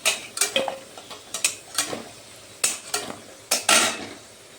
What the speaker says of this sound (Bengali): কাঁঠালগুলো আমি এই তেলের মধ্যে ভেজে নিচ্ছি।